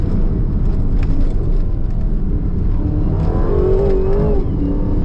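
A 2025 Aston Martin Vantage engine pulls hard toward its 7,000 RPM redline, a loud continuous roar rising in pitch near the end, heard from inside the car with no talk.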